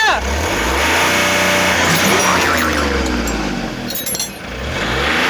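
A car engine revs hard and climbs in pitch, holding a loud, strained whine before dropping and picking up again, with people talking over the noise.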